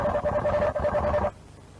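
Robot dog swarm communicating with a buzzy electronic tone, like a ringing warble with brief pulses, lasting just over a second before cutting off abruptly.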